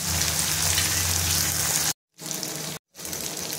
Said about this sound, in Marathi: कांदा छान फ्राय झालेला आहे, त्याच्यामध्ये 1 टोमॅटो टाकून घेते आणि आपल्याला टोमॅटो सुद्धा सॉफ्ट होईपर्यंत परतून घ्यायचे।